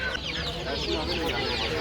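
Many chickens clucking and chicks peeping together at a poultry market in Adana, a busy, continuous chorus, close and fairly loud.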